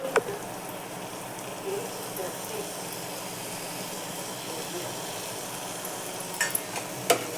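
Washed dried fish frying in a spiced pan, a soft steady sizzle and hiss with a few faint stirring clinks near the end, quiet and close.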